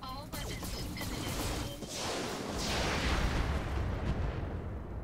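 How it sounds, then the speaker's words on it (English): Weapons fire in the game Roguepoint as a barrage unloads on an enemy: booming blasts and whooshing projectiles roll into a continuous loud rumble, with a voice speaking briefly over the start. "Let's fire everything on this guy."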